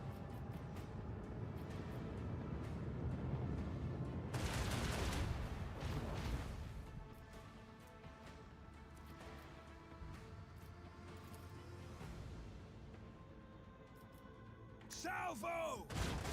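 Heavy starship broadside cannon fire booms during a space battle in Warhammer 40,000: Rogue Trader, with dense rumbling blasts and a loud burst near the middle and another at the end, mixed with game music and voices.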